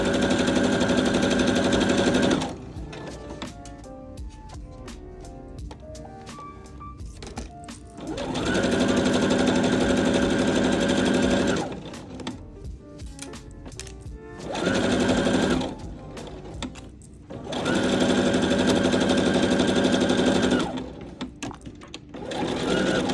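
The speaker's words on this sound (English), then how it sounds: "I love using the twin needle to make it just look so professional" A sewing machine with a twin needle stitching a hem on a halter dress, running in several loud, steady bursts of rapid mechanical whirring separated by quieter pauses of handling.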